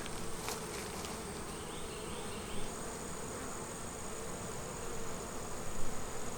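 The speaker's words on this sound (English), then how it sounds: "Let's see what happens if I try to move some bees out of the way." Honey bees buzz steadily and densely at close range while a queen bee is being installed in a hive, with a constant hum and a few louder flyby swells.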